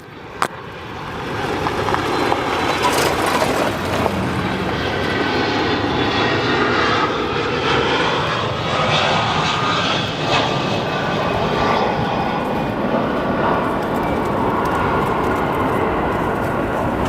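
Delta Boeing 757-200 at O'Hare, its jet engines giving a loud, sustained roar with a faint whine and a sharp click near the start, steady throughout and unaccompanied by talk.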